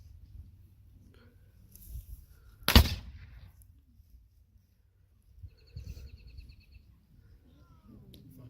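A single loud crack from an 1861 Springfield rifle musket firing outdoors, standing out against a quiet background with faint birdsong and low murmuring afterward.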